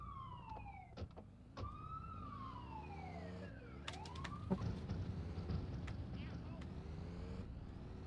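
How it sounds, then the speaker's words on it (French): Wailing ambulance siren in the video game GTA 2, its rising and falling sweeps repeating over engine rumble and game noise, with someone talking over it. "On va aller piquer l'ambulance."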